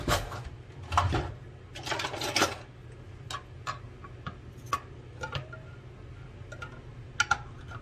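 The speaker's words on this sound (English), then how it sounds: "I have my 2 cans of coconut milk here. And I'm just going to get these opened" Two cans of coconut milk being opened with a can opener in a kitchen, a run of scattered clicks and ticks with short bursts of grinding scrape and metallic snaps, close and fairly faint.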